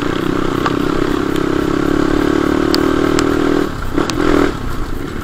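Crossfire 250 motorcycle engine under way on a ride toward Mustang, a loud steady droning hum close by with some clatter, easing off briefly near the end.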